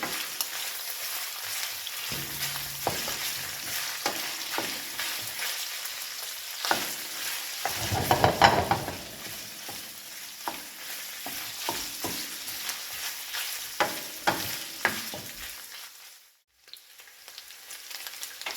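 Boiled beef pieces browning in cooking oil in a pan for beef stew, a steady sizzle broken by repeated scraping stirs, with one louder burst midway and a short lull near the end.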